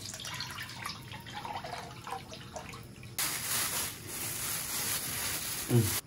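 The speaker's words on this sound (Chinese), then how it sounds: "锅中加点油。" Cooking oil poured into a pot ahead of deep-frying stinky tofu: light dripping and trickling at first, then an abrupt, steady broadband hiss that stays close and fairly loud until the end.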